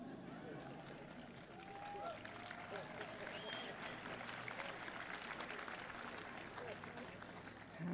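A commencement audience applauds in a large hall, with steady dense clapping sustained for several seconds at a moderate distance and a faint murmur of voices.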